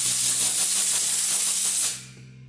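Compressed air blasts out of a stripped automotive thread hole during a repair, a loud, steady hiss held close for about two seconds before cutting off abruptly.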